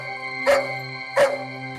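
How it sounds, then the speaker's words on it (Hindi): A dog gives two short, loud howl-like cries about a second apart, over a steady tonal music bed in a Hindi crime drama scene. "क्या कुत्ते को घर से दूर ले जाएंगे?"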